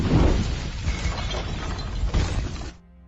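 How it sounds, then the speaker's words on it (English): A massive explosion tears through a trailer, set off from a microwave: a loud, dense blast of shattering and breaking debris that rumbles for nearly three seconds before cutting off into near silence. "A massive explosion occurs"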